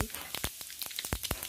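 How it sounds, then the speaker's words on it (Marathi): Mustard seeds and cumin crackle in hot oil over a low flame while a tempering is made for red chilli pickle, giving sharp, irregular pops over a faint sizzle. "मोहरी एकदम चांगली कडकडू द्यायची. जिरे एकदम मंद आचेवरतीच आता आपल्याला ही फोडणी तयार करून घ्यायची आहे."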